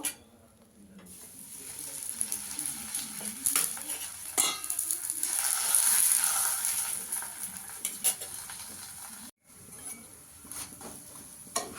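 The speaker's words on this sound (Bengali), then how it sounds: "অল্প অল্প করে তেল দিয়ে ভেজে নেব।" A methi parotta frying in a pan with a little oil, a continuous hiss and sizzle swelling and fading, with occasional clinks and scrapes of a utensil nearby.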